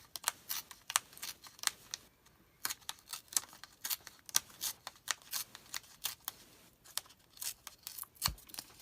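Paper tears in short ripping pulls as a thin strip comes off for a journal page, a series of close, crisp tearing bursts with brief pauses between them.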